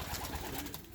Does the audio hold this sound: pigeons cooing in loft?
yes